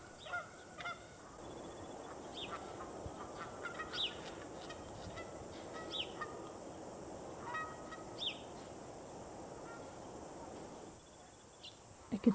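Geese honk repeatedly at a partly frozen lake with slushy water, their calls scattered and moderately distant over a steady outdoor background.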